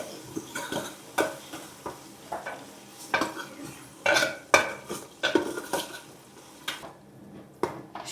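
Chillies fry in a pan over a gas stove, with repeated scraping and clanking of a spoon against the pan over a soft sizzle, in close, uneven strokes.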